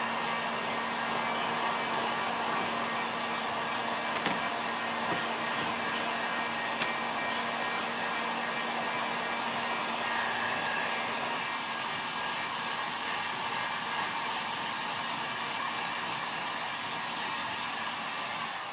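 A heat gun or hairdryer blows steadily and fairly loudly, drying paint and decoupage paste on a WoodUbend and Posh Chalk craft project, a constant whooshing hum with no talk over it.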